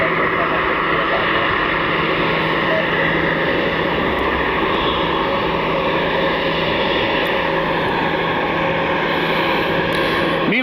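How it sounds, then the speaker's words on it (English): A United Airlines Airbus A319 airliner taxis onto the runway, its engines giving a loud, continuous, steady roar at close range throughout. "Looks like an A319 taking the runway right now."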